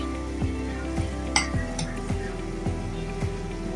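Chilli, pepper, coriander and turmeric powders frying for a roasted chicken curry, stirred in a pan with a soft continuous sizzle, a few light spoon scrapes and one brief clink, close and moderate in level.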